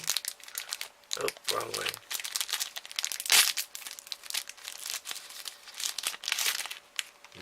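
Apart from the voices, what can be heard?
tearing open a mooncake's plastic wrapper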